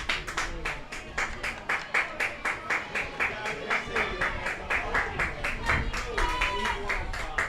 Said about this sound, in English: the Stars fans trying to clap their team to a good inning here